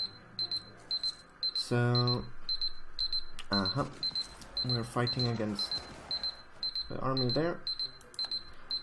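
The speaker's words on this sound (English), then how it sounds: "And that is my alarm, sorry." A repeating electronic alarm beeps in short, evenly spaced pulses all the way through, steady and fairly quiet, while someone talks over it about a Europa Universalis IV campaign.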